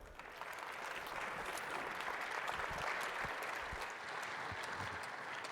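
An audience applauds to welcome Governor Cuomo at a governors' association plenary meeting, a dense, sustained round of clapping from a large hall crowd.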